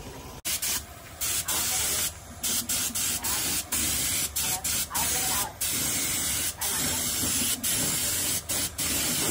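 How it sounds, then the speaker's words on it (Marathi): Lacquer sprays in repeated bursts from a spray gun onto a Lalbaugcha Raja Ganpati idol, a steady loud hiss broken by short pauses, close to the listener. "आपण आता लालबागला लेकर मारतो."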